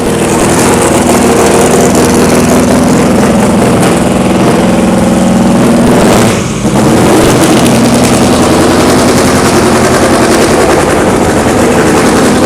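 Vintage Bentley Blower engine running at an Oldtimer Grand Prix at the Nürburgring, a loud, steady, rough mechanical roar close up that dips for a brief moment midway and then continues unbroken.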